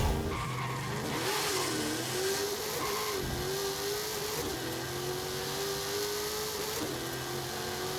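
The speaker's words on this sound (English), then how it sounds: "I'm changing gears way too quickly for the gearbox." A Chevrolet Nova drag car in Forza Horizon 5, its engine droning steadily with quick gear shifts and tire squeal, loud and continuous without any talk.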